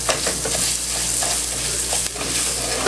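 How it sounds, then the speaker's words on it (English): Rice browns in a non-stick pan, a dense steady sizzle and crackle with a few stirring scrapes, close and loud with no voices. "now my pan's really starting to sizzle"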